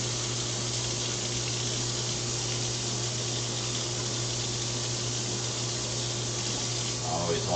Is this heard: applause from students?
no